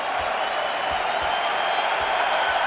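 Stadium crowd at a 1991 World Series game between the Braves and Twins, a steady loud roar filling the space, carried as a broadcast backdrop with a few low thumps.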